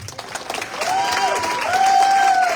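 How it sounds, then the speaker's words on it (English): A crowd at a teacher awards ceremony claps steadily, the applause swelling slightly, with a couple of rising whistles cutting through. "So please help me give a round of applause to Mr. Savicki."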